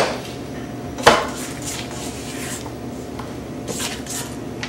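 A spatula scrapes the sides of a mixing bowl of double chocolate rum cookie dough, giving one sharp scrape near the start and softer scuffs after it, all close and moderately loud in a kitchen.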